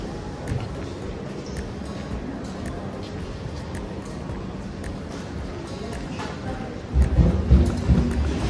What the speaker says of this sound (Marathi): थोडा पाऊस पडतो इथे.